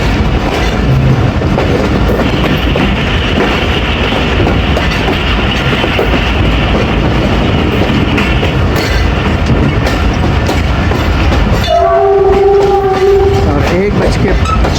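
The Tezgam Express rumbles toward Lahore Junction with continuous loud rail clatter and wheel noise, and a horn blast sounds near the end. Someone speaks briefly over it.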